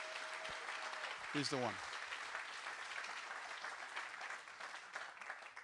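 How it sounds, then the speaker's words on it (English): Congregation clapping hands in church, a dense steady wash of applause running throughout, with a voice speaking briefly over it near the start. "Can we give the Lord the biggest hand clap?"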